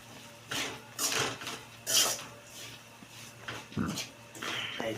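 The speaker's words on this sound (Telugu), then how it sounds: "దీన్ని ఒకసారి కలుపుతున్నా." A spoon scrapes and clanks against a pot while stirring bitter gourd curry: a series of irregular metallic scraping bursts, close and moderately loud, with no speech.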